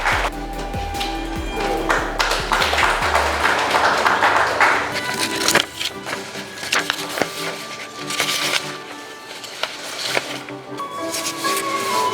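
An audience applauds at a Buddhist scripture-offering declaration ceremony, the clapping swelling early and then thinning into scattered claps mixed with ringing pings and wooden taps.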